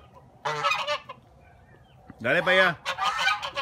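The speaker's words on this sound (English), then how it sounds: "a pair of cantankerous geese that were determined to keep Tony and I from the door" A pair of cantankerous geese at a farm give two loud, close honking calls with a pause between, while someone speaks briefly in Spanish over them.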